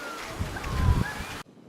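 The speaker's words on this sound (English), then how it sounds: "It is super windy." Strong wind on the beach beside the Tulum Ruins in Mexico, gusty low rumbling buffeting the microphone and peaking near the middle before cutting off abruptly.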